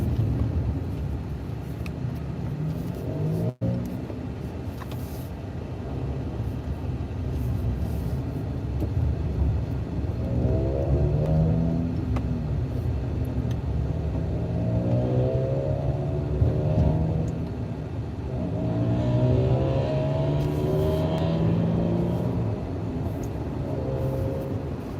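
Steady low road rumble and engine drone from inside a car driving through Tucson streets near the university, with tire hum rising and falling and a single brief knock early on.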